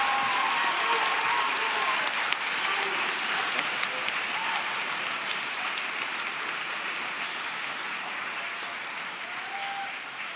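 An audience at a high school class of 2024 awards ceremony applauds dual credit students, a steady wash of many hands clapping in a large hall, moderately distant and sustained throughout, with faint crowd noise beneath.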